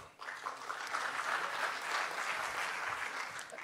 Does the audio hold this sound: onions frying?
no